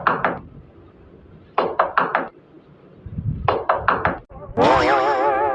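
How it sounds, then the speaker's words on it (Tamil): Sharp knuckle knocks on a wooden door come in three quick bursts of three to four raps each, loud and close, followed by a rising cartoon-style whistle or voice. "யார் இந்த டைம்ல கதவு தட்டிட்டு இருக்குது?"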